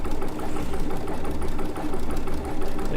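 A Baby Lock sewing machine runs steadily while couching yarn with an embroidery stitch, giving a close, continuous rapid mechanical whir and needle patter with a slight rhythmic pulse.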